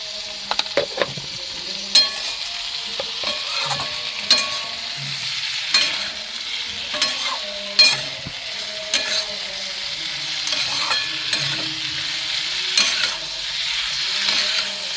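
Broad beans fry in a pan with a little salt while a utensil stirs them, giving steady close sizzling broken by repeated scraping strokes and clinks across the whole stretch.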